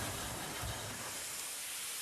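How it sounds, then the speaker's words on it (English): A small Terrier steam locomotive named Penchurch lets off a steady broadband hiss of steam, close and continuous for a brief moment with no voices. "Penchurch, is what's known as a Terrier, which of course were like a very small locomotive"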